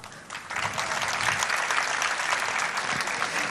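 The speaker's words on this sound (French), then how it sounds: "Je compte sur vous pour les encourager et les applaudir très fort." Audience at an end-of-year kindergarten school show bursting into steady, dense applause that swells quickly and holds strong throughout, with no voices standing out.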